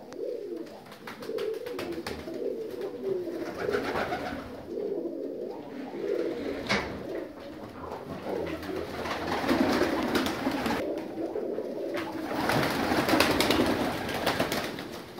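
A loft full of North Caucasian fighting pigeons coos continuously in soft, overlapping murmurs. The cooing is close and steady, with occasional wing flutters and no talk.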